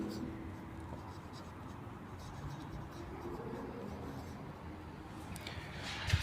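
Chalk or marker scratches faintly across a board as physics equations are written during an optics lecture, a soft continuous scraping under the lecturer's voice speaking Hindi.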